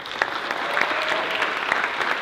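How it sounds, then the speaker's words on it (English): A crowd applauds a speaker at a Chinatown community teach-in, a steady, dense wash of many hands clapping at close range for a couple of seconds, with no talk over it. "Let's clap it up for David Acosta."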